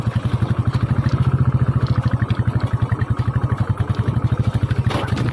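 A motorcycle labours over a rough rural road, its engine thudding in a fast, regular pulse that stays loud and close throughout, with brief clatter near the end.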